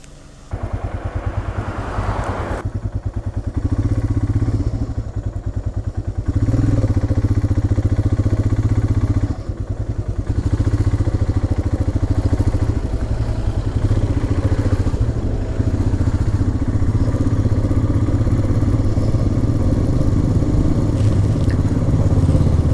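A motorcycle engine runs loud and close after refueling on a mountain road in Uttarakhand, rumbling steadily with a clattering idle and short revs throughout.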